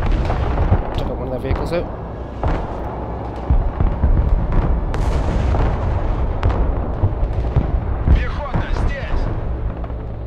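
Heavy artillery fire in the real-time war game Broken Arrow, with dense rumbling booms and sharp bursts running continuously under someone talking.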